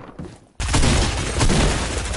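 Heavy gunfire in a Fortnite match, a dense, loud, continuous barrage of shots and booms that starts abruptly after a quieter moment and keeps roaring without a break.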